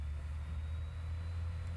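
A laptop cooling fan roars like a jet, a steady, continuous low whooshing rumble that holds an even level without pauses.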